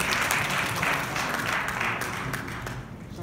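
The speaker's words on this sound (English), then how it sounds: "Let's give a round of applause again." An audience applauds at a Queens community gathering held for a borough-president candidate, the clapping steady and moderately loud, easing off toward the end.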